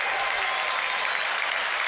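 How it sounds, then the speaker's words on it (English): A racecourse crowd at Ascot roars without letup after the Railway Stakes is won, the cheering and applause dense, loud and sustained across the whole stretch with no break. "Have a listen to the crowd erupting here for arguably the best we've ever seen"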